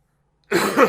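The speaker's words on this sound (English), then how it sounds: "Didn't mean to cough at you." A single sharp cough bursts out after a moment of silence, close and fairly loud.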